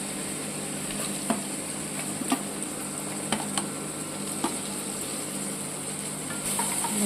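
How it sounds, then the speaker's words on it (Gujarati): Onions with a ginger, garlic and chilli paste sauté in a pan for a Kathiawadi capsicum curry, a soft steady sizzle with occasional light spoon taps against the pan. "ડુંગળીને આપણે થોડીક વાર સાંતળી લઈશું."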